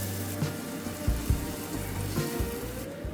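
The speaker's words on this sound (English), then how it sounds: "saute diced pepper in a little olive oil on medium heat for 5 minutes" Diced pepper sauteing in a little olive oil in a saucepan over medium heat, a soft continuous sizzle and crackle with occasional low clinks, close and steady.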